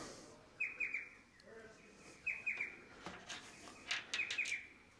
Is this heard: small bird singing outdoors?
yes